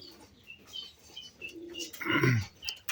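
High flyer pigeons coo softly amid faint chirps, with a louder, throaty coo swelling near the end over low background noise.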